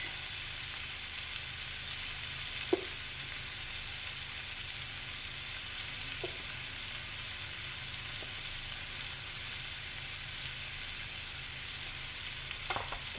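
Mushrooms fry steadily in a pan for sweet and sour chicken, a soft even sizzle with a few faint clicks of utensils against the pan and no talking.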